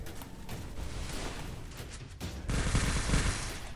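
Rapid, close Desert Eagle pistol shots in a 4v4 shooter video game match, mixed with a dense wash of other gunfire that swells louder toward the end.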